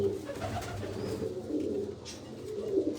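Soft, low cooing of a female pigeon repeats in a gentle rolling rhythm, fairly quiet and close, with a few faint chirps in the background.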